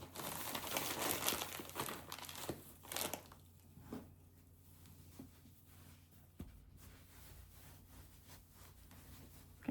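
Polyester fiber fill being crinkled and pushed by hand into a hand-sewn cloud pillow, with dense rustling and crunching up close at first that thins out into softer, sporadic rubs and pats.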